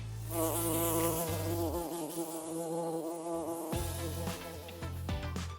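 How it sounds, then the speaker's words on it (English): A steady, wavering bee buzz drones continuously, loud and close, with a low rumble underneath and no voices, in Sri Lanka. "There are so many bees in that area."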